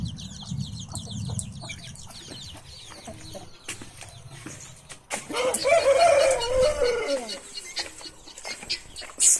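Free-range hens and chicks on a poultry farm in Nellore district, with soft clucking and high chick peeps, then a louder burst of clucking partway through, under some distant voices.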